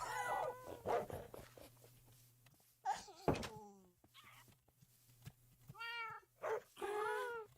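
Pet cat Luna in the Minecraft game meows in several short, clear, rising calls, loud and close, with a steady low hum underneath and a couple of brief thuds between them.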